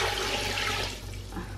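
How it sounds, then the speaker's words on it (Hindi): Water splashes and gushes into a cooking pot while goat trotter paya is being made, a brief close pour that thins out after about a second, with no voices. "अब इसको पानी डाल देंगे हम।"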